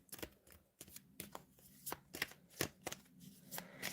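Tarot cards being shuffled in quick, crisp riffling bursts, a dozen or so soft slaps and flutters repeating irregularly, close and quiet with no speech.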